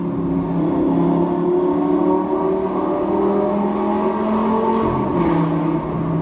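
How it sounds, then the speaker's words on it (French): A Lamborghini Gallardo Superleggera engine rumbles loudly and steadily nearby, with a deep growling tone that shifts near the end as the revs change during a downshift. "Quand il rétrograde, c'est vraiment une dinguerie."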